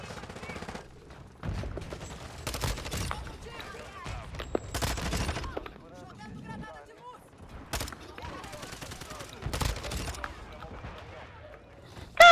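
Gunfire in Call of Duty: Modern Warfare II, with sharp, close shotgun blasts spaced among other scattered shots and impacts. The bursts come irregularly, and people talk between them.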